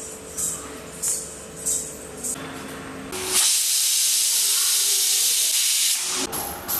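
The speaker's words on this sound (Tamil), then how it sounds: "இது அப்படியே மூடி நம்ம ஒரு 5-6 விசிலுக்கு குக்கரை அடுப்பில் வச்சிட வேண்டியதான்" A pressure cooker on a stove, cooking toor dal for sambar, lets out a loud, continuous hiss of steam for about three seconds, preceded and followed by quieter kitchen clatter.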